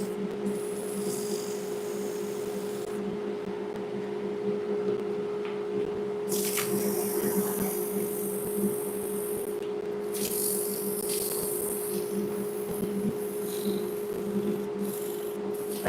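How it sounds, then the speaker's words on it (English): Steady rasping scrub of sandpaper worked back and forth by hand, with brighter gritty bursts over a constant low hum. "reverse sanding is the best."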